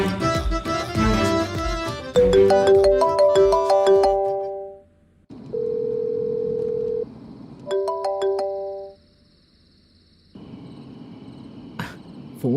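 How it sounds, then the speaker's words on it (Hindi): A mobile phone ringtone plays a melodic tune that cuts off and restarts, ringing in repeated bursts with short silent gaps, loud and close, with no one answering. "फोन क्यों नहीं उठा रहा है?"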